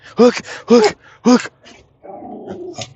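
A pet dog lets out three loud, close growling yelps in quick succession, then a softer drawn-out whimpering growl.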